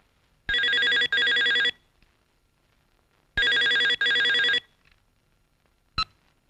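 An old-style telephone bell rings indoors at night, sounding two loud double rings separated by a pause before a brief third burst is cut short, with near silence between.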